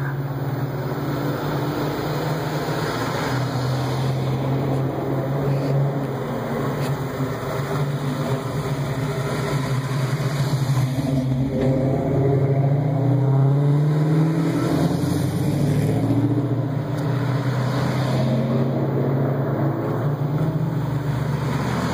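A Buick car rolls in at a Mustang club covered bridge cruise, its engine a steady low hum with a brief rise in revs midway, heard outdoors amid continuous background noise.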